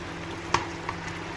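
Sliced onions drop into a hot pan of Filipino-style beef steak, giving a steady close sizzle broken by one sharp pop and a smaller crackle.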